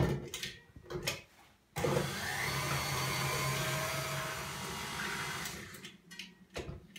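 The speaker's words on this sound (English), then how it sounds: "I'm just going to blend that quickly before I add my dry ingredients" An electric hand mixer blends an egg and vanilla into cookie batter, droning steadily for several seconds at close range, framed by brief knocks and handling noises before and after.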